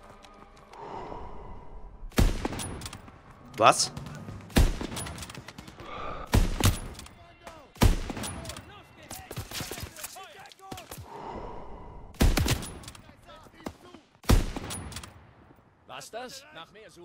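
Gunfire in the Call of Duty: WWII Ardennes offensive campaign: repeated bursts of loud rifle and machine-gun shots in clusters, separated by short pauses, with soldiers' voices speaking and shouting between the volleys.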